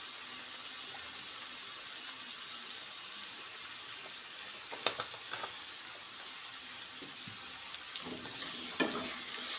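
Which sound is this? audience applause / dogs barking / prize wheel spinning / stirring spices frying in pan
stirring spices frying in pan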